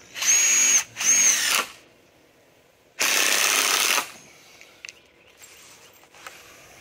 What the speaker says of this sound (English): Drill it.